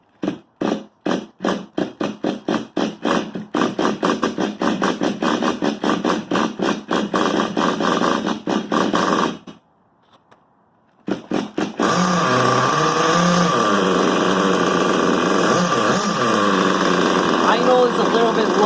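The small nitro engine of an XTM X Factor RC car, fitted with a 24.7 engine, sputters in rapid repeated bursts while being tuned, cuts out briefly, then restarts into a loud sustained high-pitched buzz.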